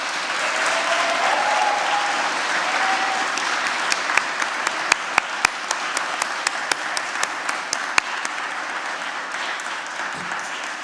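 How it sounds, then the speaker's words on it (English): Sustained applause from a graduation ceremony audience in a large hall, a steady roar of many clapping hands with a few louder individual claps standing out near the middle before it slowly thins. "So why don't you give them a little round of applause?"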